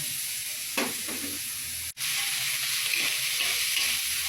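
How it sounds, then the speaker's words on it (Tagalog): Chicken sizzles steadily as it fries in a pan for pansit, a continuous close hiss with occasional stirring scrapes and no talking. "Lutuin ko muna itong pansit."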